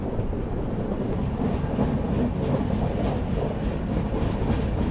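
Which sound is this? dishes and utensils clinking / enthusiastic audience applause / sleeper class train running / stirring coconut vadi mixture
sleeper class train running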